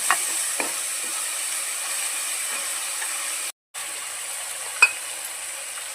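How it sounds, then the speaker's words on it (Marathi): Ginger paste and garlic sauté in hot oil in a pan, giving a steady, moderate sizzling hiss with a few faint clicks of a spoon. There is a brief silent break and no speech. "इथं टाकूया आलं पेस्ट, लसूण थोडी परतून देऊया व्यवस्थित"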